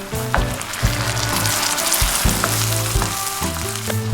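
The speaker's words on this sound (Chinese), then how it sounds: "淋入20毫升的老抽 ，10毫升生抽" Dark and light soy sauce poured into a hot pan for red-braised pork, sizzling loudly throughout with repeated bursts and crackles as the liquid hits the oil, no voices.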